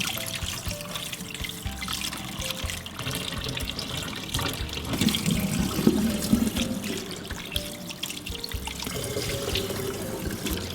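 Running tap water splashes steadily into a sink as pieces of cobia fish are rinsed, a close, continuous flow with a slightly heavier gush midway.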